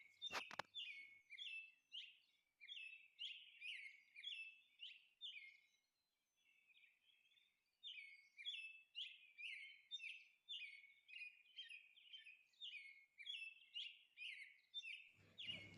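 A parrot calling, a long run of repeated shrill chirping notes in a steady rhythm with a short pause in the middle, clear and fairly close with no talking.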